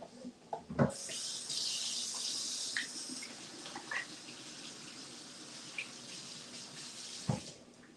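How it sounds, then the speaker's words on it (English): Running tap water pours into a sink as hands are washed beneath it, a steady close splashing rush lasting several seconds, with a few clunks at the start and a knock as it ends. "I'll wash my hands real quick"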